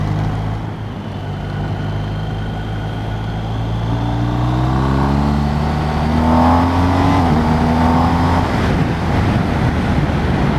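A BMW R1250RS motorcycle engine drones steadily and loudly while riding, rising in pitch as it accelerates through the gears with a shift near the end, wind and road noise underneath.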